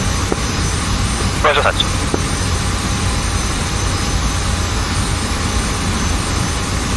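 A jet aircraft takes off in the DCS World flight simulator during a Six Day War campaign mission. Its steady, loud engine roar fills the whole clip while brief radio voices talk over it.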